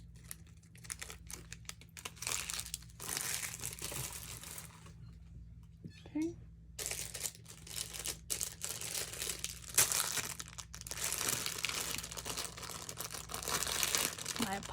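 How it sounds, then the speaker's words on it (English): Plastic packaging crinkles and crushes almost continuously while a gem-show mineral jewelry order is unboxed, loud and close, with a short quiet gap midway and one brief spoken word. "apologize for all the plastic crinkling"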